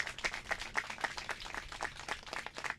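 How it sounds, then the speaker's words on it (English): A steady patter of clapping hands from a crowd at an outdoor park ribbon-cutting ceremony, sustained and moderately loud without a break. "Give them a big round of applause"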